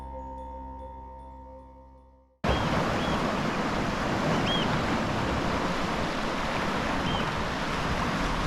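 After a faint musical tone fades out, steady sea surf washes in around coastal boulders on the Durham Heritage Coast, a broad continuous rush heard nearby with light wind over the microphone and no talking.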